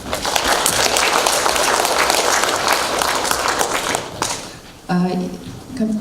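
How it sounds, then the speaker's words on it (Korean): A crowd at an academic conference in a hall applauds steadily and loudly for several seconds before the clapping fades and a professor begins speaking in Korean. "큰 박수로 이영경 교수님 모시겠습니다."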